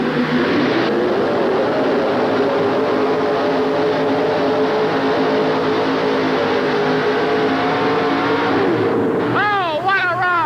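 A Chevrolet pulling truck at a 1988 TNT truck pull in Birmingham roars at full throttle for a sustained, loud run, with the engine pitch rising and wavering, then backing off near the end.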